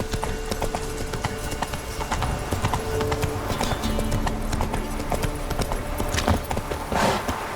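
A horse in the video game The Witcher 3 gallops with rapid, rhythmic clip-clop hoofbeats and a brief whinny, all set against game ambience and with no talk over it.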